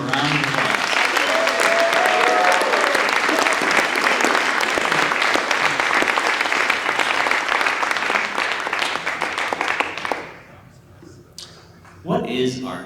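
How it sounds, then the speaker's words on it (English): A crowd at an art awards ceremony applauds loudly and steadily for about ten seconds, then the clapping fades out and a voice begins speaking. "Let's give them a round of applause."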